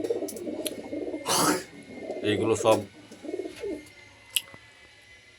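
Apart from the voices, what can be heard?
Andhra pigeons cooing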